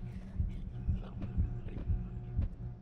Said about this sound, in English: Oh, my heartbeat's going fast.